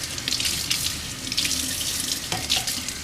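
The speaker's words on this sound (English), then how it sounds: "I'm gonna give the leaves a nice rinse" Philodendron leaves get rinsed under a running tap, a steady close rush and splash of water throughout with no voices.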